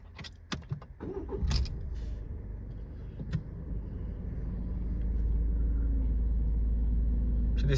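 Keys jangle and a 2020 Citroen C4 Cactus engine cranks and catches, then settles into a steady, low rumbling idle close by.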